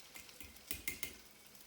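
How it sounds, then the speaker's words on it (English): Egg-soaked bread for French toast sizzles in a frying pan, a soft steady hiss broken by a few small pops and clicks. "You can hear that sizzle straight away."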